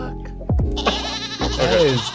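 A goat lets out a loud, wavering scream-like bleat, rising and trembling near the end of a short burst, heard close and alone.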